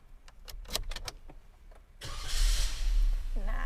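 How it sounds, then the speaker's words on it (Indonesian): A 2021 Suzuki Jimny 4x4 starts up: quiet cabin clicks and taps first, then the engine catches with a loud broadband rush and settles into a steady low idle, close by. "Tapi sebelum itu kita nyalain dulu nih mobilnya."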